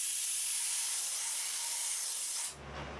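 A loud, steady hiss of sandblasting on a lathe tailstock roars close for about two and a half seconds, then cuts off abruptly, leaving a low hum.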